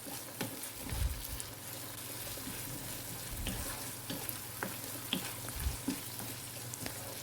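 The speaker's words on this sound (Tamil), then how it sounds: "இதை சேர்த்துட்டு நல்லா மிக்ஸ் பண்ணி விட்டுக்கலாம். நல்லா ஒரு 5 செகண்ட்ஸ்க்கு வதக்கி விட்டுக்கோங்க." Tomato paste sautéing in a pan for mutton liver thokku, a steady close sizzle with scraping stirs and occasional clinks of a spoon against the pan, no voices.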